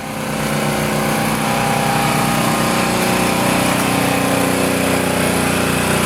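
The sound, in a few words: gas-powered portable generator running outdoors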